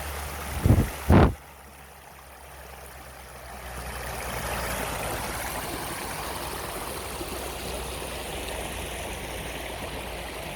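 Water flows steadily at Phran Thong waterfall in Sangkhom district, Nong Khai province, a broad continuous rush that swells slightly and holds, preceded by two brief close thumps.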